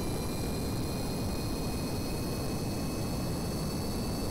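Spaceplane jet engines at full throttle in Kerbal Space Program, an SSTO craft climbing: a steady, dense broadband roar with a thin high whine, constant in level and unbroken throughout.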